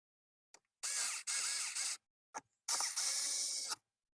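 Screws are driven in to fasten a glove box in a 1998–2001 Nissan Frontier Xterra, giving two long buzzing bursts of a powered driver, each with a short click before it, close and steady with no talk.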